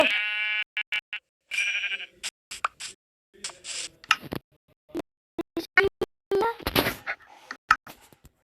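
Minecraft sheep bleat in short repeated game sound effects, loud and close, mixed with clicks and scattered gameplay noises.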